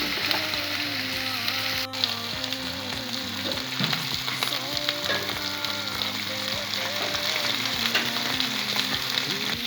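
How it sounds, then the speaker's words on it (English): Rump steak sizzles steadily in a hot pan, a continuous dense frying crackle with faint scraping and stirring noises, close and loud throughout with no talking. "when you're cooking steak, please don't shake your pan, just let it cook."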